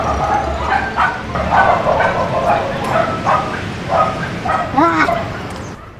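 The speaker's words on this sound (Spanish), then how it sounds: "Pasaron unos perros." Several dogs bark repeatedly outdoors in Mexico as they pass by, a loud run of rhythmic barks and yips over about six seconds, ending with a whimpering whine.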